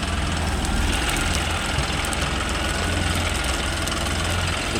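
A John Deere 5405 CRDI 4WD tractor diesel engine idles steadily with a low, continuous rumble and a faint knocking rhythm, close by and with no voices.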